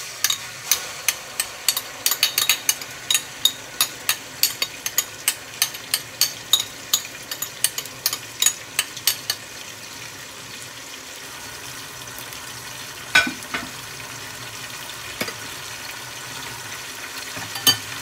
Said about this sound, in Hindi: लहसुन अदरक का पेस्ट इसमें डालते हैं।